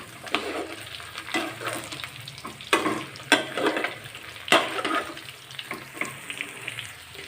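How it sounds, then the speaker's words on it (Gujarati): Steamed dhokla pieces are tossed and stirred in hot oil with mustard and sesame seeds, giving a steady close sizzle with scraping and clattering stirring strokes and no talking. "એકદમ હળવા હાથે આપણે સરસ રીતે મિક્સ કરી દઈશું"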